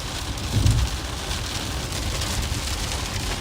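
Pouring rain drums steadily on a car while driving across a bridge during an Oklahoma storm, a dense continuous wash with a brief bump of louder low rumble near the start.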